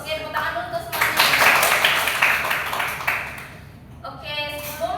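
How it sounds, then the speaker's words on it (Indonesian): A primary school class claps hands together in a short, dense burst of clapping, with a teacher's voice talking just before and after it. "tepuk tangan dulu untuk semuanya"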